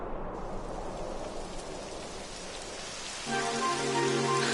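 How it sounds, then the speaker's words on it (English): Steady rain hisses and patters in the Dragon Quest XI video game world, a dense, continuous wash of noise that grows a little louder and fuller near the end as a tonal musical layer comes in. "It would have to go and start raining."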